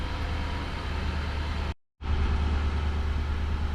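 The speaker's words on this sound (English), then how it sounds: "And then you only need to let your engine run maybe 30 seconds to a minute" A Nissan Armada engine idles after an oil and filter change, a steady low rumble with a brief drop to silence midway before the running sound returns, fairly close and with no talk.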